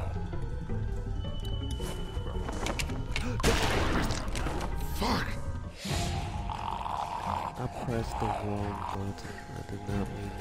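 Gunfire in The Walking Dead video game, a dense, chaotic barrage of shots mixed with other game sounds and snarls, continuous and fairly loud.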